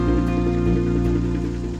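Steady rain falling, a continuous even patter and hiss throughout with no voices.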